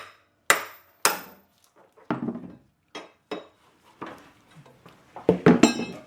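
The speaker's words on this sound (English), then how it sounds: "I just take a hammer and give it a quick hit." Sharp metallic hammer blows on a fan clutch tool ring out one at a time at uneven intervals, ending in a quick flurry of clanking strikes.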